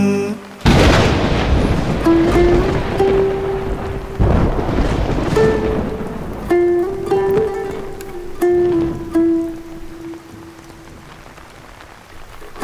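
Heavy rain and rolling thunder in Cherrapunji at Diwali: loud, sustained rumbling booms swell and fade over a steady downpour, with a tonal melody playing faintly over the storm.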